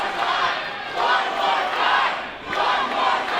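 A wrestling show crowd roars and cheers in loud rising and falling waves, a big arena audience chanting and yelling together with no clear single voice.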